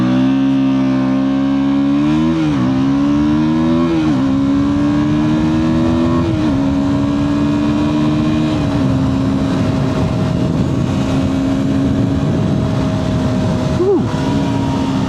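KTM 160 Duke motorcycle launching hard from a standstill, its small single-cylinder engine revving loud and close through several rising gear pulls, then holding a steady high drone.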